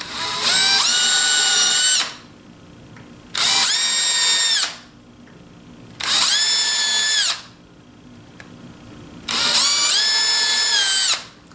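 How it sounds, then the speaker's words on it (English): A power drill whirs in four separate bursts of about two seconds each, with short quiet pauses between them, loud and close. "So now I'm just going to drill some little holes here."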